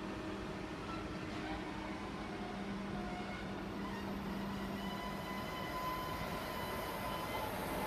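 A Virgin Trains East Coast express, 91107 Skyfall, running non-stop through Doncaster station on the main line, a steady continuous rumble of the passing train with a faint tonal whine, no talk.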